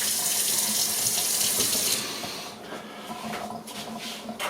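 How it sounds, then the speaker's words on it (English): Lemons are washed under a running kitchen sink faucet: a loud, steady gush of water for about two seconds, then a quieter, uneven trickle and splashing as the flow changes. "You have to make sure you wash them in the sink"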